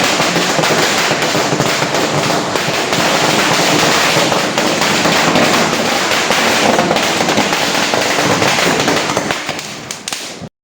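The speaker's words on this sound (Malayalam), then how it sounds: "കണി വെക്കുമ്പോൾ നമ്മൾ പടക്കം പൊട്ടിക്കും" Dense, rapid crackling bursts of firecrackers going off nonstop during Vishu celebrations in Kannur, Kerala, loud and close, thinning out just before the end.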